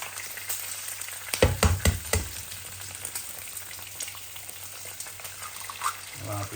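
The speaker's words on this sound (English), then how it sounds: "Bacon sizzling away." Bacon sizzles steadily in a frying pan, a continuous close hiss and crackle with a few louder spatters and clatters early on.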